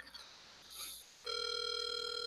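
Telephone ringing on an outgoing follow-up call: after a brief quiet stretch of faint noise, a steady electronic ring tone starts and holds clearly to the end.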